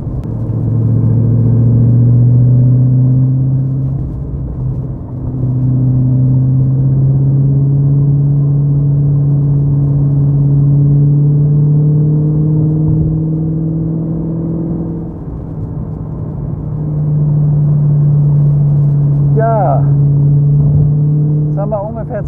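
A 2005 Ford GT with a Heffner supercharger and over 800 hp accelerates hard, its engine droning loud and steady from inside the cabin, with brief dips as it shifts gears and pulls again.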